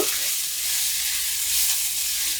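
Spices with turmeric powder fry in hot oil while being stirred, a dense, close, continuous sizzle and hiss throughout.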